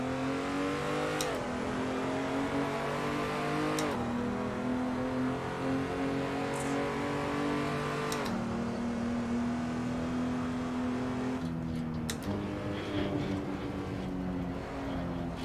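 A car engine in the racing game Assetto Corsa roars steadily and loudly, its pitch climbing through each gear and dropping sharply at every shift, with no voices.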